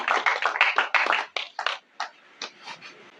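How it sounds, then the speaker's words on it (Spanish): A church congregation claps their hands in praise, a quiet spread of uneven claps that bunch together, then thin out into a few scattered slaps before dying away. "Dale unas palmas al Señor y póngase de pie"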